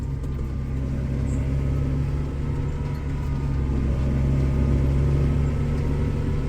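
Case and Fendt tractors drive to a nurse tanking pumping job, a loud continuous low engine rumble heard from inside the cab, steady throughout.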